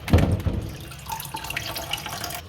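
Tap water running into a sink while small kachki fish are washed for a tomato curry, a steady splashing stream that is loudest at the start and then settles into a continuous, moderate flow with no talking.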